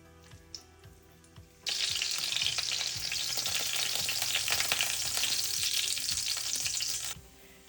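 Pork schnitzel drops into hot oil in a pan and sizzles loudly and steadily for several seconds, then the frying cuts off abruptly; no talking.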